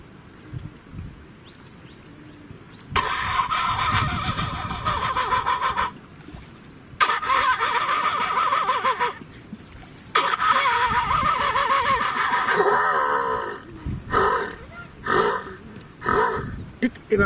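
A person mimics a new vehicle engine starting with their voice, giving loud rough bursts of buzzing, rumbling mouth noise in several spaced blasts, with short pauses between them.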